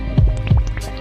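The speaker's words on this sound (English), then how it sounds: "Feel the heartbeat, feel the heartbeat on your eardrum." A deep, thumping heartbeat effect, two heavy low beats about a third of a second apart, with a faint hum underneath.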